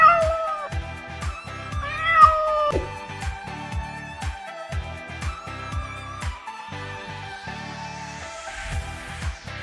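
Through CCTV footage a cat gives several meows over a steady, rhythmic backing of music with regular beats, the cries rising and bending in pitch, clear and fairly loud.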